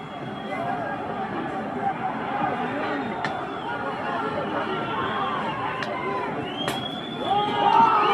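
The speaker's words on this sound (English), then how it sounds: "You can hear the crowd cheering as they set the building ablaze" A large outdoor crowd cheers and shouts while a building is set on fire, a dense, continuous roar of voices with occasional sharp whistles and cracks, swelling louder toward the end.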